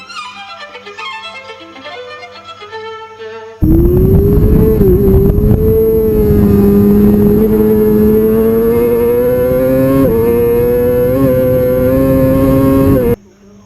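A racing motorcycle at the Isle of Man street race roars past at full throttle, a loud, sustained high-revving engine whine that climbs through gear changes after a quieter opening, then cuts off abruptly.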